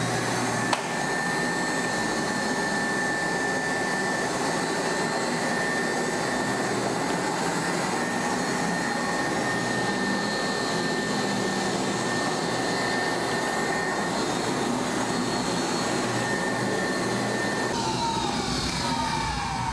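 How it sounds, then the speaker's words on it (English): A walk-behind floor scrubber cleans vulcanized composition rubber flooring, giving a steady, loud whirring drone of motor and suction that runs unbroken and alone. "Next step is taking a walk-behind scrubber and making sure that you're getting up all those suds."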